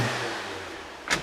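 Fiat Panda engine running steadily after repair at a quiet, even idle, followed by a brief sharp noise near the end.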